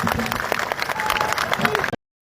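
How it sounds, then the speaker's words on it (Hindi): A crowd of young people at a gathering with Uttarakhand's chief minister applauds, making a brief, busy burst of clapping with some voices mixed in. It cuts off abruptly. "एक बार जोरदार तालियां मुख्यमंत्री जी"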